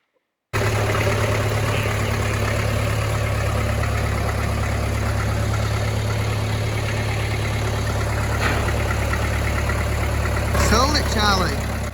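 A British McCormick tractor engine running at a steady idle, a continuous low rumble heard close by with a faint voice near the end.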